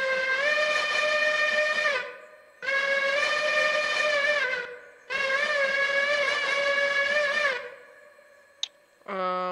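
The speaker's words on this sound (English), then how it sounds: "We have a Redding Hooter as well." Redding Hooter train whistle from a Railroader game mod sounds three loud, sustained, rich blasts of about two seconds each with short gaps between, followed by a brief higher tone.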